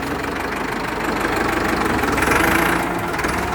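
Ford 5000 tractor engine running steadily, a loud, close, knocking diesel idle with a constant rhythmic chug that swells slightly midway.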